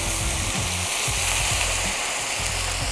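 Chicago Pilsner beer poured into a hot pan for drunken mussels, producing a loud, steady close sizzle and bubbling hiss that fills the whole stretch, with no talking.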